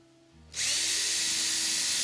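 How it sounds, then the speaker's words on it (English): A power drill whirs up suddenly after a quiet moment and keeps spinning at a steady, loud high-pitched whine, drilling a pilot hole for an aircraft engine mount. "I can drill a pilot hole at both of my locations"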